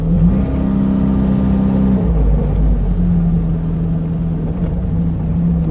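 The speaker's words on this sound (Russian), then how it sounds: "Вот сейчас катится просто на нейтралке." A car coasting in neutral, likely with a slipping or missing alternator belt, gives a steady low engine rumble and road noise with a sustained idle tone, loud and continuous with no voices.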